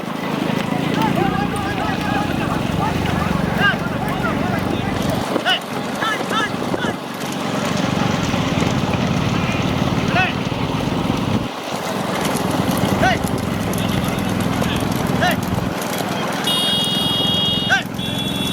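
Racing bulls in a small-bullock cart race pound along a track, their hooves clattering steadily under loud, continuous commentary and crowd noise with wind rushing past.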